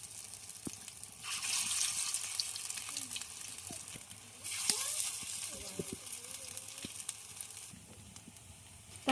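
Lentil fritters (dal bora) with greens and masoor dal sizzle in hot oil in a wok, a dense continuous frying hiss that rises louder as more fritters go in, with faint scattered kitchen clatter.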